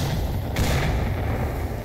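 Frag grenades going off in the VR shooter Onward during a competitive match, heard as a dense, rumbling low boom that swells briefly around the middle amid continuous loud battle noise.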